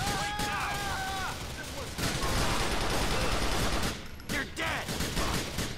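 Loud, rapid gunfire in GTA 4: The Lost and Damned rattles almost nonstop, with dense bursts of shots and clattering effects layered on top.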